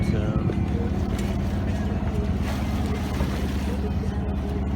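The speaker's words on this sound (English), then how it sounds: "in order to get back at a reasonable time, we had to motor." A sailboat motoring under its engine with the mainsail up on a calm lake in light wind, giving a steady low engine drone and water wash throughout, close and continuous.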